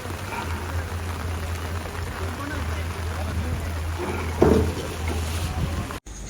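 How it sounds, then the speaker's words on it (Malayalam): Heavy rain pours at an outdoor cremation site with a steady, dense hiss over a low constant rumble. A single sharp knock stands out near the end. "ശക്തമായ മഴയാണ്"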